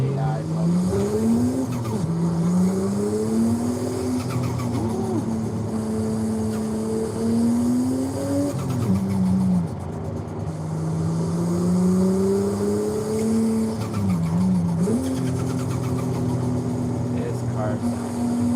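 A car in the Forza Horizon racing game roars continuously with a revving, shifting engine pitch and squealing tires, loud and steady throughout.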